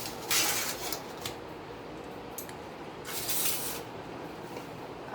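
Cooked rice being served with metal utensils: faint clinks and scrapes of a spoon against a pot and plate, heard in a few short bursts over a quiet background.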